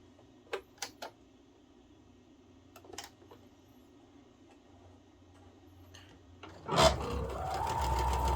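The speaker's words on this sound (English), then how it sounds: "Just gonna chain piece these. That just means I'm gonna do them one right after the other, never pulling them off the machine." A sewing machine chain-pieces cotton fabric triangles one after another with no breaks, its needle clicking in sparse, quick bursts before a sustained louder whirring run near the end.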